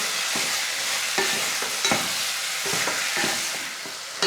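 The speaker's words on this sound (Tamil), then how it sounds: "சிக்கனை சேர்த்ததுமே ஹை ஃப்ளேமில் ஒரு 2லிருந்து 3 நிமிஷம் நல்லா ஃப்ரை பண்ணிக்கணும்." Chicken pieces with garlic paste frying and being stirred in a pan over a high flame for a chicken curry, a steady close sizzle broken by repeated scraping and stirring knocks, with no one speaking.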